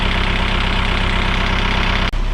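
A Mo Zetter tractor engine idles in a steady, loud, close rumble with a constant mechanical throb and no talking.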